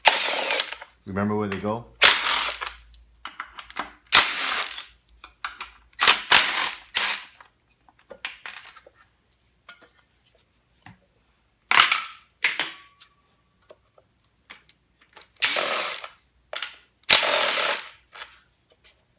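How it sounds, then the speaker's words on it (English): A ratchet spins out 10mm timing cover bolts on a 3SGTE engine, with short bursts of rapid clicking spread across the stretch, separated by quiet pauses, and a brief spoken remark near the start. "Now you remove all the 10mm bolt for the timing cover."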